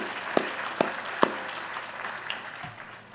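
Scattered applause at a commencement ceremony, a few distinct claps standing out over a soft, thin patter that fades toward the end.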